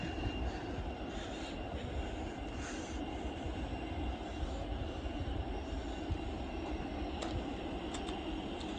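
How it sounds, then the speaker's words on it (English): A Virgin Atlantic Airbus A330 taking off at Heathrow, its engines a steady broad distant roar, fairly faint and unbroken throughout with no talk. "Next plane about to take off is a Virgin Atlantic Airbus A330 to Chicago."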